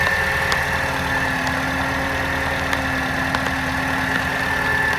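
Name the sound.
Mercedes C180 W203 M271 Kompressor engine running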